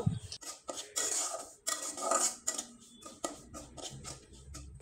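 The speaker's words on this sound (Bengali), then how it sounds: "আবারও কিছু সময় একটু নেড়েচেড়ে নিব।" A spoon scrapes and clinks against a pan as roasted semolina with cardamom is stirred, giving irregular close metallic knocks and gritty scraping in bursts, without talk.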